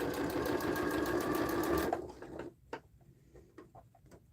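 A sewing machine stitches steadily and loudly through six to eight layers of fabric and interfacing on a sling bag for about two seconds, then stops, leaving faint handling clicks and rustles.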